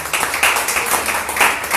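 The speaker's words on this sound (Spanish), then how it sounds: "Denle un aplauso al Señor." A church congregation gives a short burst of uneven, lively hand clapping, moderately loud with rhythmic surges, and no speech over it.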